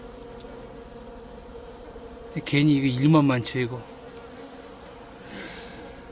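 Honeybees buzz in a nearly empty hive during the honey harvest season, a steady background hum with a louder, close buzzing burst for about a second in the middle and a voice speaking briefly.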